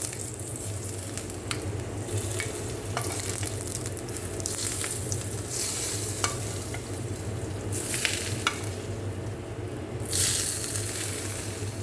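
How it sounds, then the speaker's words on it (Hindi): Hot tempering oil for tadka poured over potatoes and chickpeas on a serving plate, giving a steady close sizzle with occasional sharper crackles and pops. "तड़के की आवाज़ आ रही होगी आपको"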